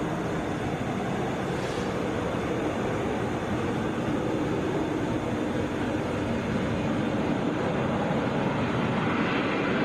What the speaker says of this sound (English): Boeing 737, rolling out here.